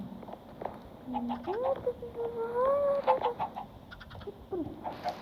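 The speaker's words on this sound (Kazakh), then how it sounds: "Тауықтар толып жатыр ғой" Chickens in Minecraft cluck and squawk over and over at close range, their calls rising and falling against a busy background.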